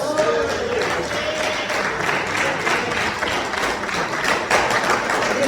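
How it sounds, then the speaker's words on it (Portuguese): Congregation at a Sunday church service claps in praise, a continuous wash of hand claps with crowd voices mixed faintly underneath. "Palmas que louvam o nome do Senhor Jesus."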